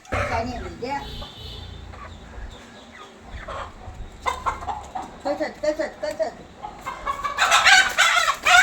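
A native country rooster crows and hens cluck nearby in an outdoor village farmyard, with people talking over the birds throughout.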